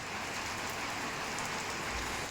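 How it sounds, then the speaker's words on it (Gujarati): Steady rain falls in a rural area of Bharuch during a storm, a dense, even hiss of drops on surfaces that continues without pause or voices. "ભરૂચમાં જે ગ્રામ્ય વિસ્તાર છે ત્યાં આગળ વરસાદ શરૂ થયો છે"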